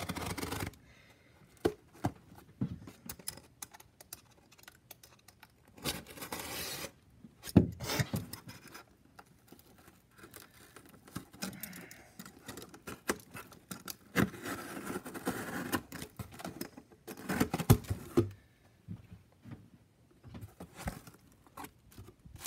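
A knife cutting open a cardboard shipping box, irregular scraping, rasping slices and rustling flaps, close up with intermittent louder tearing bursts.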